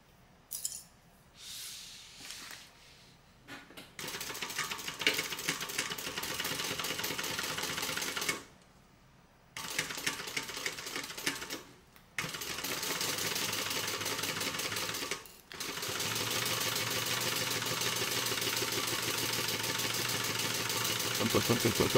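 A sewing machine runs stitching a tote bag, whirring in steady mechanical bursts that stop and restart several times, loud and close, with a few brief quiet gaps between runs.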